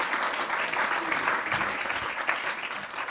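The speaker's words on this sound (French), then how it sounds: "Oui, vous pouvez les applaudir." Audience applause fills a conference hall as executives are introduced on stage, a dense, steady clapping held at even loudness for a few seconds without talk over it.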